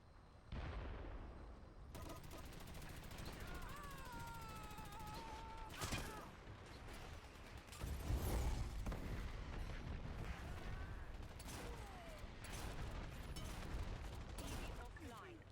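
Gunfire in the online shooter Dirty Bomb, with repeated bursts and impacts running through a busy, loud battle mix alongside game effects, while a player talks over it.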